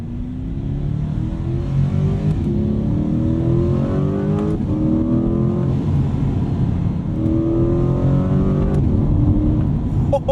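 A 2020 Chevrolet Corvette Stingray mid-engine sports car revs hard and climbs through several gear changes, rising pitch sweeps repeating, loud and close throughout.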